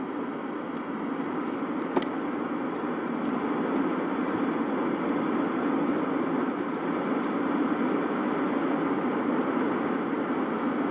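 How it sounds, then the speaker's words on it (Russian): A transport airplane drones overhead in the shooter Escape from Tarkov, a steady, even engine rumble that stays at one level throughout, with a faint click near the start. "Ну, сам самолет в нашу сторону летит."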